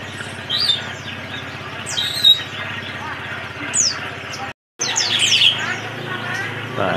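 A young oriental white-eye (pleci) kept at home gives quick, high, thin chirps and short trills, repeated in bursts at close range over a steady background hum, with a brief dropout partway through.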